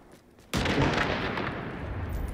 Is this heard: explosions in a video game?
yes